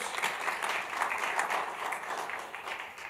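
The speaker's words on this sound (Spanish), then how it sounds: "Le da ese aplauso fuerte en la bondad de Dios" Steady, dense applause from a church congregation during a Tuesday service, sustained throughout with no pauses, fairly loud and close.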